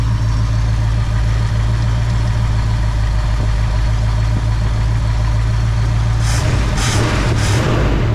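A 1966 Ford Fairlane with a 390 FE V8 idles steadily and loudly up close, a smooth low rumble, with a few brief hissing bursts near the end.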